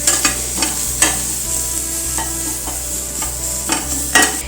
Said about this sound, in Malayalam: അപ്പം അതും കൂടെ നമുക്കൊന്ന് വഴറ്റിയെടുക്കാം.